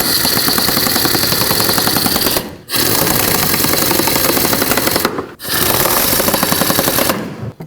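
A ratchet or impact tool drives a 10mm socket in three loud rapid bursts, snugging thermostat housing bolts on a Chevrolet Express van, with brief pauses between runs and a harsh rattling buzz throughout.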